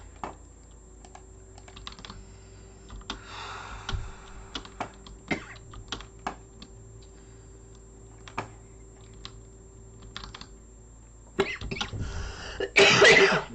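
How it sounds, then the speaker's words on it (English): Several short coughs and throat clearing during a Minecraft play session, scattered among light computer keyboard typing clicks, with a louder burst of coughing near the end. "I'm trying not to cough."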